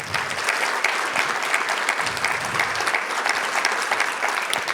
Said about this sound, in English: That deserves a round of applause, truly.